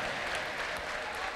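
A church congregation claps in a continuous, fairly even wash of applause, moderately loud and without a break.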